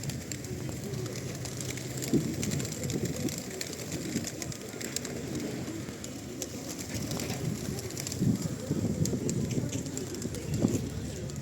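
Pigeons coo and flutter nearby amid a busy, noisy outdoor background in the resort town of Truskavets in winter, with people talking intermittently.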